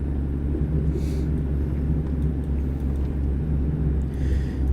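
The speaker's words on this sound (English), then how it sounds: "Must be going up a hill because I hear that engine having a little bit harder time" A heavy truck engine in American Truck Simulator labors up an incline, a steady low droning rumble held close and constant throughout, with no talking over it.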